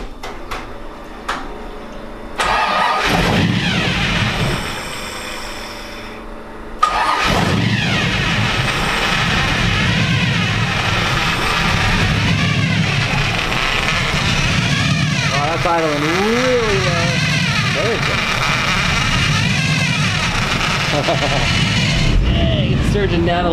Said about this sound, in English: it's surging down to like 400 RPM and it's still running